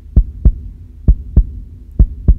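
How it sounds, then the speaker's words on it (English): Six deep, thumping heartbeats fall in lub-dub pairs with short gaps between them. The pulse is steady, close and loud, with a faint hum underneath and no voices. "What does a heartbeat sound like?"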